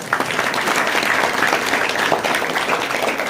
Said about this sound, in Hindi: एक बार जोरदार ताली मिले ताकि आपकी नींद गोल हो जाए